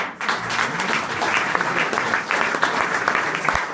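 Steady applause from a crowd at a mayor's New Year's address in Wenzenbach, Germany, many hands clapping evenly, with a low murmur of voices underneath.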